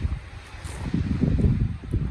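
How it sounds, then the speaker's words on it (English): Strong wind on a mountain trail in the Pecos Wilderness, buffeting the microphone in low rumbling gusts from within a patch of trees. "it's super freaking windy"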